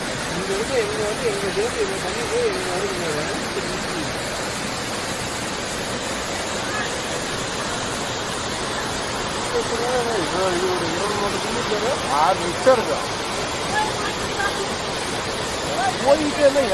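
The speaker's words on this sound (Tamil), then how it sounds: "இது ஒரு அருவி." Steady roar of the Belapadi waterfall, where people bathe, fills the whole stretch, a constant broadband rush with faint voices and splashes near the end.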